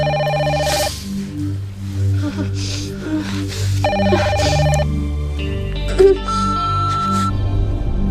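A telephone rings in a soap-opera scene, its repeated bursts of electronic ringing sounding loud and close over a swelling musical score.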